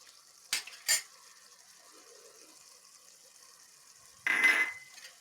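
Green chillies stirred into a cooking pot for Kashmiri mellow sochal, heard as a couple of short utensil scrapes near the start and a louder clattering stir near the end, with quiet stretches between.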